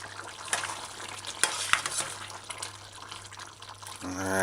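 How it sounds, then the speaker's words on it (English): Pork and butter bean brown stew being stirred in a pot on a stovetop, with soft scraping and bubbling, a few sharper spoon knocks against the pot, and a steady hum underneath; no talking. "so you just stir that in"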